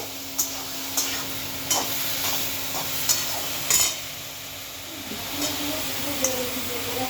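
Spices with salt, turmeric, chili and cumin being stirred and sautéed with vegetables in a pan, a soft steady sizzle with periodic scraping clicks of the spoon against the pan.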